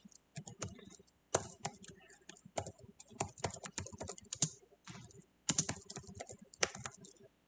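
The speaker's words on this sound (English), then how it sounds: "if I can actually type it" Rapid clattering of computer keyboard keys in bursts of quick typing, close and crisp, separated by short pauses.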